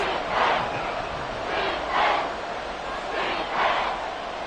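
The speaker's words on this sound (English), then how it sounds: "this crowd making it hard to hear" A stadium crowd roars at a football game on third down, a loud, continuous wash of noise that swells and ebbs in repeated surges.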